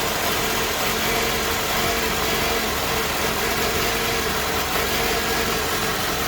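A Toyota Camry 2.4 engine idles nearby, loud and rumbling without a break, with a rough, uneven, misfiring running sound.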